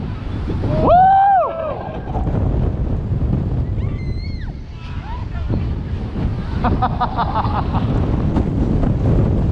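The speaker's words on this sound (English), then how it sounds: "that wind when you get around that corner" Wind buffets the microphone on a tall amusement park tower ride, a loud continuous rushing roar, with people's voices heard over it.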